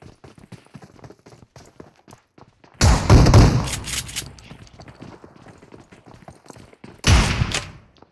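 Enemy fire in a shooter video game arrives as two sharp, loud bursts of rapid gunshots separated by a few seconds of quiet clicking and light background sounds.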